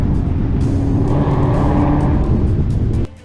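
A tuned Ford Mustang 5.0 accelerating hard during a police chase, a loud, close, sustained engine roar that builds and then cuts off abruptly near the end.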